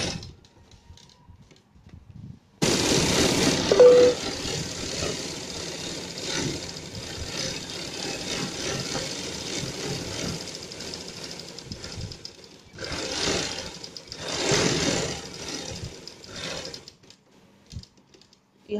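A sewing machine runs in a steady mechanical whir while double-stitching a coat collar, starting after a short quiet lead-in, with brief pauses and restarts close by and no talk.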